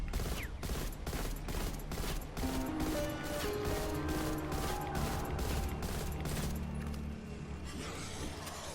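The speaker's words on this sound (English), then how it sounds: "the recoil is very controlled, so I'm just gonna fire at this wall here" A modified M4A1 rifle in Cold War Zombies fires a long, evenly spaced automatic burst into a wall, sharp loud cracks repeating rapidly over a backdrop of game music and mechanical noise.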